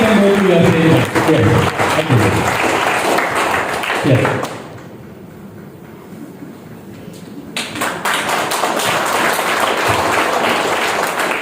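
Participants at an ice-breaking session of a trainers' workshop clap after a dance, loud and dense applause for several seconds, briefly dropping to a quieter murmur before swelling again into steady clapping with some crowd noise.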